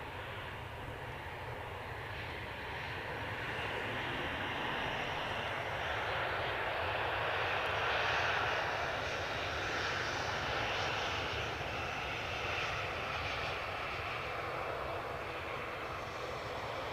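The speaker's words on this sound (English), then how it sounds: "Ryanair's just touched down, but EasyJet's just done a turn and burn" Ryanair and EasyJet jet airliners at Manchester Airport fill the air with a steady, broad engine roar that swells slightly toward the middle and stays loud and close throughout, with no voices.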